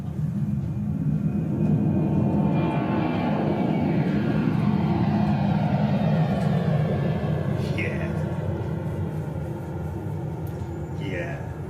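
A Boeing 767 jet with winglets rumbles past overhead, a steady broad engine roar that slowly shifts in pitch as it passes, with someone talking over it throughout.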